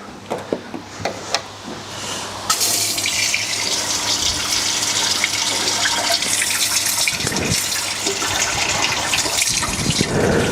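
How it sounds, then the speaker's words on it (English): Water gushes steadily and loudly into the coolant system of a twin-turbo Lamborghini Superleggera, a continuous close pouring rush after a few brief knocks and clatters at the start. "we're putting in some fresh water"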